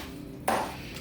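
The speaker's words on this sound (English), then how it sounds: "And then I'm just gonna give it a chop" A knife chopping through the backbone of a whole turkey carcass on a board, a single sharp, ringing chop that fades out, heard up close with no talk.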